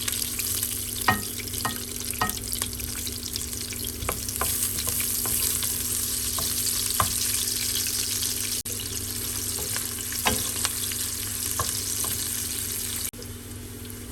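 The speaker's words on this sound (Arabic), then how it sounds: "هنقلب البصلة ليصير لونها شفاف وتدبل عنا" Onion fries in a pan while being stirred until soft and translucent for an okra and eggplant dish, a constant moderate sizzle with scattered clicks of a utensil against the pan.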